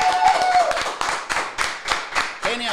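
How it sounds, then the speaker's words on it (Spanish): An audience at an interview show applauds with a loose burst of hand claps, uneven in rhythm and close by. A voice is heard briefly at the start. "Un aplauso nuevamente, Raquín guay Kenway."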